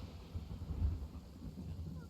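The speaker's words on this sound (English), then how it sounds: "When did it start to rain?" Rain with a low rumble of thunder in a video game, a steady soft hiss over a deep, faint roll that swells briefly near the middle.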